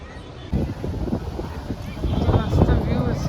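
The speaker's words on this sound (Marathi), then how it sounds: "एवढा वारा सुटलाय मस्त" Strong wind blows outdoors at a temple, battering the microphone with low, gusty buffeting that builds in strength, and muffled voices can be heard faintly beneath it.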